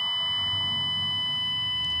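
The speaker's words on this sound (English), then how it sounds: "That is the front door alarm." A home front door alarm sounding, a steady high-pitched electronic tone held continuously at a loud, even level with no talking.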